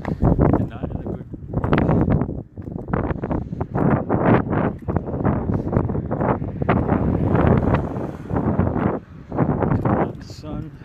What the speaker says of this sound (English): This wind bites.